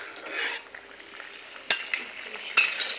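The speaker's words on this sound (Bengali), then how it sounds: "পনিরটা দেওয়া হবে এখন।" Paneer going into a boiling poppy-seed and tomato gravy in a pan, with a soft bubbling sizzle throughout and two sharp utensil knocks against the pot.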